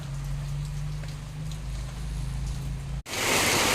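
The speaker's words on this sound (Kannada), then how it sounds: "ನಿನ್ನೆ ಸಾಯಂಕಾಲದಿಂದ ವಿರಾಮ ಕೊಟ್ಟ ಮಳೆ ಮಧ್ಯಾಹ್ನ ಒಂದು ಎರಡು ಗಂಟೆಗೆ ಸ್ಟಾರ್ಟ್ ಆಗಿದೆ ನೋಡಿ ಮತ್ತೆ ಅದೇ ರೀತಿ ಸುರಿತಾ ಇದೆ" Heavy rain pours down steadily, a dense continuous wash with a low hum underneath, then cuts briefly before returning louder and closer, with no voices.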